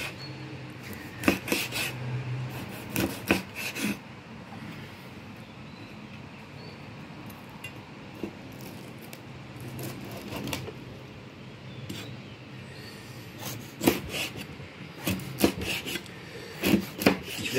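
A knife crunches through crispy roasted pork belly on a board, cutting it into small pieces, with clusters of sharp crackling cuts and rasping strokes recurring in bursts between quieter moments.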